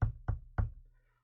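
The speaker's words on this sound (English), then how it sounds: "knocking on the door." Three sharp knocks on a door, evenly spaced about a third of a second apart, close and fairly loud, with a short fading tail after the last one.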